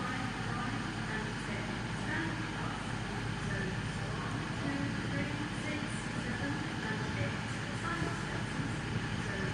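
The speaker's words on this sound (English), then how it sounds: "the approaching train is the 1212, very early 1212 in fact, I think. No, Great Western Railway service to London Paddington." Great Western Railway train bound for London Paddington approaching through Reading station, a loud, steady low rumble and roar of wheels and engine that holds throughout, with someone talking over it.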